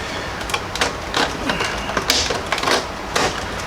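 A plastic plate from a Gyrosoft kit for a Nerf Nemesis blaster is handled and clicked into place, giving sharp close clicks and rattles in an irregular sequence with light handling noise between.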